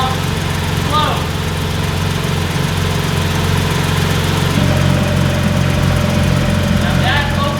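A Porsche GT3 RS with a swapped exhaust idles with its exhaust valves closed, a steady low mechanical hum throughout, with faint voice-like chirps briefly audible over it.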